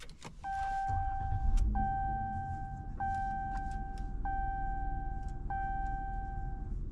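A 2025 Ram 1500 pickup's 3.6-liter V6 engine idles with a steady low rumble inside the cab, while a repeating two-tone chime sounds over it.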